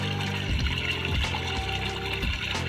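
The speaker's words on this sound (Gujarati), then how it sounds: "પાણી આવું થોડું આવે છે" Water trickles and gurgles steadily through a farm irrigation channel running between brinjal plants in a village field, a continuous close watery flow with a few louder splashes.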